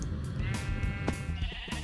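Sheep bleat in Minecraft, near a farm in the game world. Several wavering bleats come in quick succession, moderately loud over a steady game background, with no talk.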